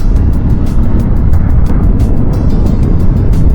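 Aprilia Tuareg 660 motorcycle being ridden on a test ride, a constant loud low engine drone mixed with wind rush, steady throughout without talk.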